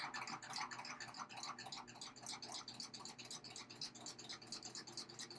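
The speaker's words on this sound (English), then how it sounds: "And let's start stitching." A sewing machine stitches elastic for embellished button loops, giving a fast, steady run of rapid needle clatter that holds close and even for several seconds with no voices.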